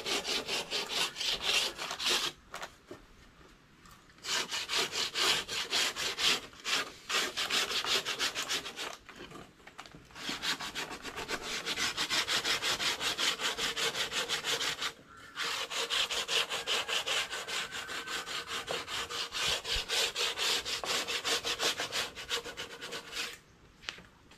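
Steady rasping strokes of sandpaper rubbing against wood, repeating in long bursts with a few brief pauses, close up and fairly loud.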